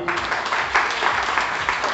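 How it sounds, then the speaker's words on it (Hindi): Crowd applause fills the whole stretch, a dense steady patter of many hands clapping, fairly loud, with no clear pauses. "तो एक बार कौतिक जी के लिए जोरदार तालियां।"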